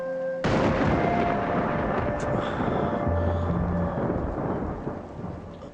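Steady heavy rain pours throughout a scene from the Kannada film Maasthi, with deep rolling thunder rumbling underneath; the sound is loud and continuous from start to end, with no speech.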